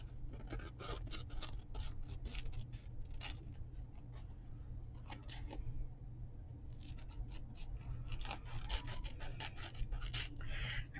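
Scissors cutting through paper for a planner project, giving repeated bursts of close, quiet snipping and rasping with short pauses between cuts and no talking.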